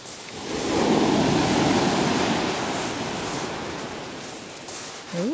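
Sea waves break and wash steadily onto the shingle of Chesil Beach in November, a broad continuous roar of surf that stays loud and close throughout, with no talk.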